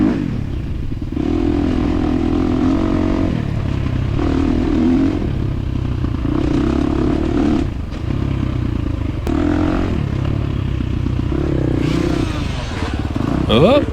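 A 2023 KTM 350 XC-F dirt bike races through a hare scramble course, its engine droning and revving in repeated surges with clattering over rough ground, close and loud throughout.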